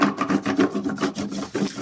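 Crayon rubbing back and forth over paper laid on a textured surface, a close scratchy rasp in quick repeated strokes with no talking.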